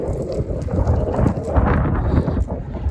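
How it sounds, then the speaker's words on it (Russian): Strong wind buffets the microphone while cycling fast on a downhill desert road toward Riyadh, a steady, loud roaring rush with gusting swells throughout and no talk. "Ветер попутный."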